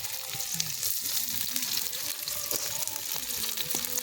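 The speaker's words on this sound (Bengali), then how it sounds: "আদা রসুনটা দিয়ে দেবো আদা রসুনটা দিয়ে দাও আমি পেঁয়াজটা দিয়ে দিই" Onion, ginger and garlic fry in a pan for a Bengali egg curry, crackling and sizzling steadily with scattered pops and stirring clinks, fairly quiet and close.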